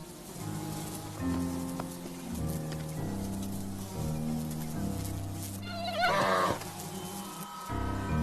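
Swarming Arctic biting insects buzz steadily under music, a thin persistent drone of many wings that stays fairly close.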